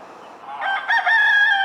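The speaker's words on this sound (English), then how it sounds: "This is the rooster we're thinking about keeping as a secondary backup to John Luke." A rooster kept as a backup flock guardian crows nearby, a single loud rising cock-a-doodle-doo that swells after a quiet start and holds its strained final note to the end.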